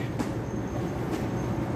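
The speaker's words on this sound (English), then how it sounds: "I'm just going to film this train depart" A Sydney passenger train departing rumbles steadily at close range with a low, constant roar, plus a couple of brief hissing bursts.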